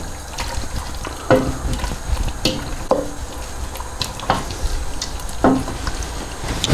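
Paprika stirred into Hungarian beef goulash in a pot: a continuous wet stirring scrape over a faint sizzle, with several sharp spoon knocks against the pan.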